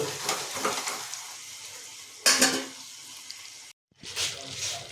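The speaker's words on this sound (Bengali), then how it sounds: "এর মধ্যে আমরা দিয়েছি পরিমাণ মতো জল" Water poured into frying mutton ghugni gravy gives a splashy sizzle that surges sharply partway through, then cuts out briefly before the bubbling frying resumes.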